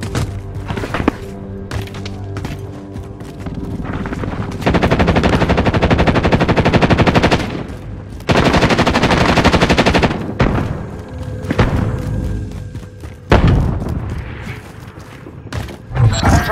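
Sustained bursts of machine gun fire from a Call of Duty: Modern Warfare video game match, loud and dense, with heavy sustained volleys broken by short pauses, scattered thuds and occasional radio-style voices.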